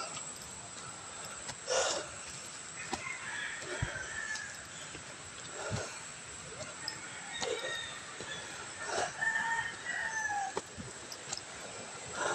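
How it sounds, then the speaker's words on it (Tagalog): Gamefowl roosters crow repeatedly at a farm, several drawn-out cock-a-doodle-doo calls rising at mid distance over a steady background hiss, with scattered clucks in between. "kung may naririnig kayong tilawak ng manok, yun na yun."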